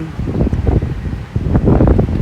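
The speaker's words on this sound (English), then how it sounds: "I got buildings on both sides, so unfortunately it's a little bit windy" Gusty wind funnelling between buildings in Saigon buffets the microphone with low rumbling bursts, loud and close, with no voices.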